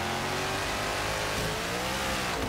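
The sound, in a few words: car engine revving in Forza Horizon 3 video game, over 7-litre engine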